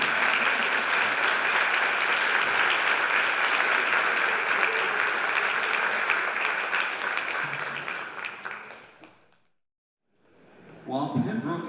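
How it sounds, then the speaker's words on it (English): Sustained audience applause for a jazz band at a school jazz night, steady and full for about eight seconds, then fading away into a brief silence before a short burst of noise and faint voices. "How about another round of applause for the band?"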